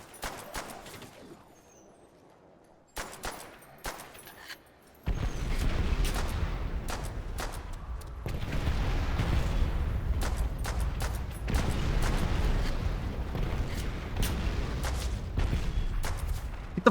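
Explosions and gunfire in the World at War Zombies video game, level Nacht Der Untoten: rapid shots, then loud, dense, continuous booming blasts and bursts that run on with little pause.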